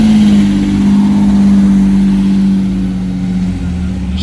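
A Lamborghini Diablo SV V12 sweeps past on a Monaco street, a loud, close engine drone holding a steady pitch then easing slightly lower as it moves away, dominant with no talk over it.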